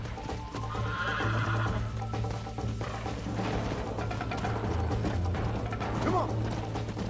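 A horse in Red Dead Redemption whinnies amid clip-clopping hooves and faint mechanical clicks, set against a steady low game hum throughout.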